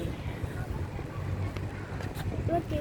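Strong wind rumbles and buffets the microphone at an outdoor school visit, a low continuous roar beneath a voice speaking.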